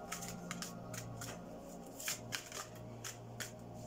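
Tarot-style Tarotrax cards being shuffled by hand, giving repeated soft riffling bursts at an uneven rhythm, close and fairly quiet over a low steady background hum.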